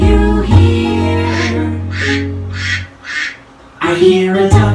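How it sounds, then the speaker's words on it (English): Duck quacking, four short nasal quacks in a quick even row, close and clear, between longer sustained tones. "I hear a duck."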